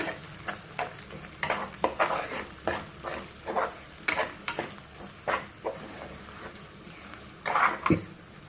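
Lentils (toor dal) dry-roasting in a pan while being stirred, producing rhythmic scraping and rattling strokes roughly every half second with a faint sizzle beneath, close and steady, with no talking.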